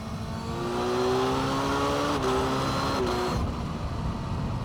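A Kawasaki Z900 with a Stage 2 ECU pulls hard in fourth gear on a German autobahn, its engine note climbing steadily under wind roar, with brief dips like shifts or throttle changes near the end.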